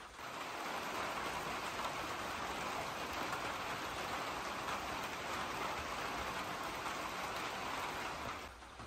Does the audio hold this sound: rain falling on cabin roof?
yes